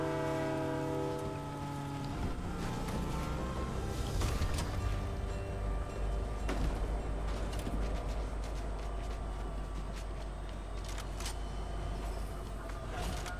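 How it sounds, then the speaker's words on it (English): A train in the Fortnite video game rumbles with steady low-frequency noise and sounds a long horn blast, loud and close, continuing through the clip without talk. "Oh, is that a train?"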